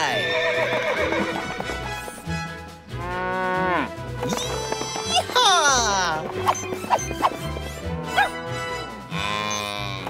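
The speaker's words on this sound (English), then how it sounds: "Riding horses is a big part of the job." Cartoon horse ridden by a cowboy while herding cattle, with steady clip-clop hooves, loud neighing and whinnying, and cattle mooing, all close and busy alongside talk.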